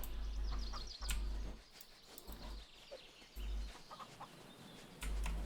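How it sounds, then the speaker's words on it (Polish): A chicken clucks in the Force of Nature survival game, with short, faint clucks scattered over a low, pulsing background rumble. "O, jest kura"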